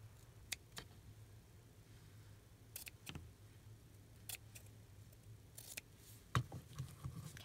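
Scissors snip through paperclip embellishments in a handful of sharp, separate cuts spaced irregularly across a quiet room, each crisp and close.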